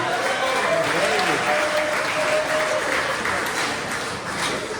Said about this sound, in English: A round of applause, please, for Tyler.